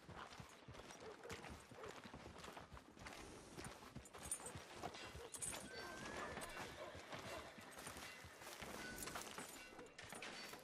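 Horse hooves clip-clop steadily in the video game Red Dead Redemption 2, with occasional neighs and whinnies over a busy, fairly constant game soundscape; no speech.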